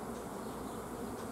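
Honeybees swarm-buzzing at a hive while new colonies are being formed. A dense, steady drone hangs close and fairly loud for the whole moment, with no voices over it.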